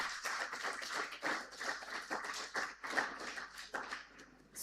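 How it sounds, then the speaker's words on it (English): Scattered hand claps from a forum audience, uneven and moderately loud, with distinct individual claps rather than a dense roar. "Can we give us a round of applause,"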